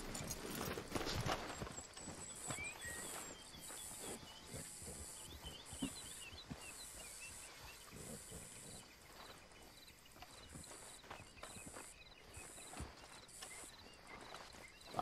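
A large horse walks in a video game, a steady series of soft hoof clip-clops that stays faint and even throughout.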